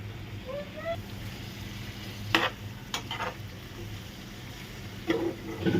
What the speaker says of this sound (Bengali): ভাজা ভাজা করে নিই টমেটো দিয়ে দিই টমেটো কাঁচামরিচ